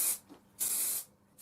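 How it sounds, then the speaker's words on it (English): Grey car body primer hisses out of a spray can in two short bursts onto a cast stunt pulse rifle prop, close and fairly quiet, with a brief pause between them. "I'm now going to give this a fresh coat of primer just to give this thing a uniform base from which I can paint on."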